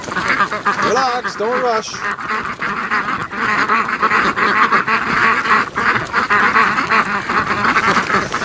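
A flock of ducks returning home from a lake quacks loudly and continuously in a dense, overlapping chorus up close, while a person speaks briefly over the clamor.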